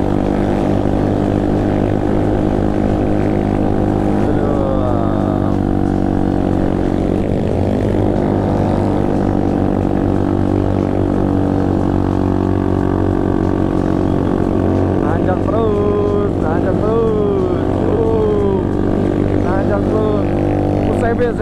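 Honda CB 243 cc motorcycle engine running loud and close, with revs climbing and dropping in a steady drone while riding outdoors in sunshine.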